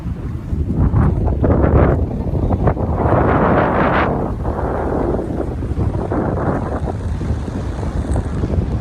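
Strong evening wind buffets the microphone in loud, rumbling gusts that surge and ease at a high spot in Sarajevo during Ramadan, with a faint background murmur of people.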